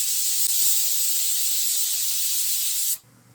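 A pressure cooker cooking potatoes on a medium flame vents steam in a loud, steady, high hiss that runs for about three seconds and then cuts off sharply, leaving a quiet background.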